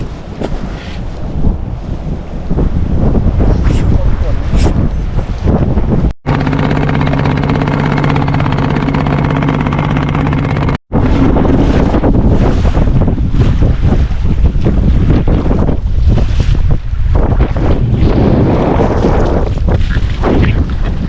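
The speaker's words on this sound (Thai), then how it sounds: "ลมอย่างตึงเลยนะครับ" Strong wind roars across a small boat at sea during a stormy squid-fishing trip, loud and continuous with buffeting against the microphone and waves washing beneath, broken by two brief dropouts.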